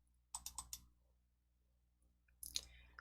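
A computer mouse clicks in a quick burst of light taps while opening a folder, then goes quiet before a second short cluster of clicks, all close and crisp.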